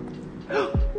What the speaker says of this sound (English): Are you having hiccups?